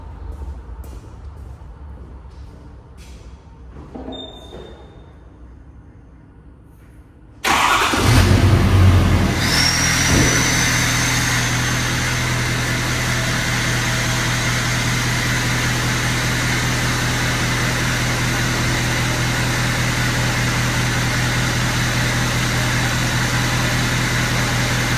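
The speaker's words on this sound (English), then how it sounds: "I know it's kind of loud, so it might be hard to hear me with the truck being on" After a quiet stretch, a Ford F250 Platinum pickup truck's engine cranks and catches with a loud surge, then settles into a steady, droning idle close by.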